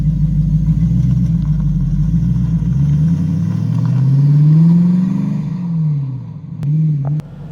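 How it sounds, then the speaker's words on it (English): TVR Chimaera, a 1990s British V8 sports car, driving on a sunny day: a loud, close, deep engine rumble rising in pitch as it accelerates, then easing off, with a couple of sharp clicks near the end. "let's take this TVR Chimera out for a drive"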